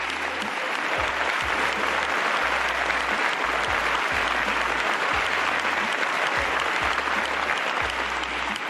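Government politicians give minister Ábalos a sustained ovation, loud and continuous many-handed applause with a steady, even texture and a faint low rhythmic thudding beneath it.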